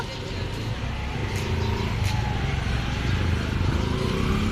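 An auto rickshaw engine hums and rattles as it pulls up, growing a little louder over a few seconds while people talk nearby.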